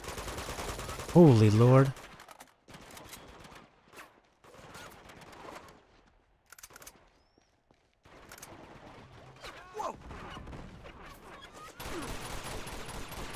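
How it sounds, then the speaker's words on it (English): Enemy gunfire in the video game Uncharted 2: bursts of rapid shots that come and go between quiet gaps, with someone talking and exclaiming over the shooting. "Guy fires blind better than they do with their eyes open."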